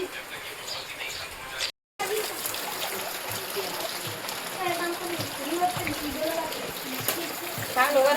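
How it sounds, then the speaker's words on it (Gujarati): Steady rain keeps falling in a village during the monsoon, with runoff splashing and trickling continuously close by, a brief dropout near the start, and people talking over it. "વરસાદ જો બંધ થવાનું નામ નથી લેતો."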